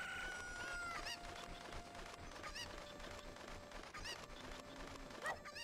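Chickens in the video game The Legend of Zelda: Ocarina of Time cluck and squawk in several sharp bursts over a steady backdrop of game music, fairly clear and near, with no one talking.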